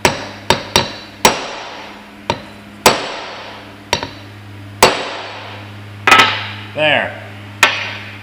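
A 3/4 inch socket on an extension is hammered onto a Horton fan clutch on a Kenworth T800 truck, giving about a dozen sharp metallic strikes at an irregular pace over a low steady hum, with a brief spoken word.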